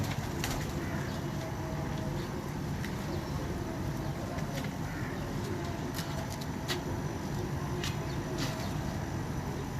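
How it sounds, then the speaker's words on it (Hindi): Parel breed pigeons in a breeder's loft coo and flap their wings amid a steady wash of background noise, with a few sharp flutters standing out and people talking nearby. "परेल कबूतर हैं सारे"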